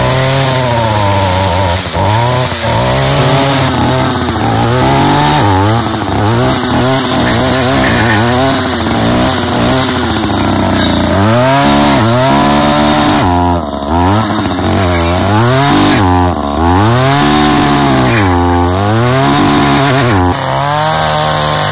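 A chainsaw cuts wood to clear a rural road, loud and close for the whole stretch, its engine droning steadily with repeated surges and dips in revs as it bites through the wood.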